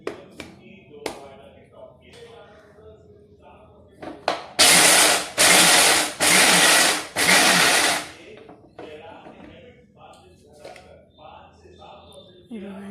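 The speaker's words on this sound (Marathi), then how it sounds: "मिक्सिंग जारमध्ये टाकून पहिले मी शेंगदाणे बारीक करून घेते." A mixer grinder whirs loudly through roasted peanuts in a mixing jar, running in several short pulsed bursts separated by brief stops, with someone speaking before and after.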